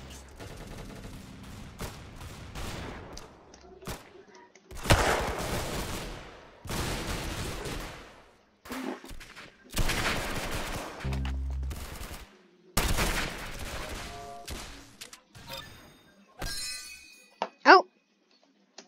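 Bursts of gunfire from a Roblox shooter game, several sharp volleys and scattered shots spread across the stretch with gaps between them, fairly loud, plus a couple of sharp bangs near the end.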